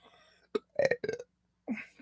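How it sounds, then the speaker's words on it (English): Several short, close belches after a morning coffee, loud bursts separated by brief silences, with no talk. "Just belching the coffee this morning."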